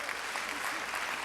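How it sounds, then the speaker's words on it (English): A seated audience claps in steady, dense applause at a 2006 senior recognition ceremony where scholarship certificates are being handed out, a continuous wash of hands with no break. "Could you hold your applause to the end"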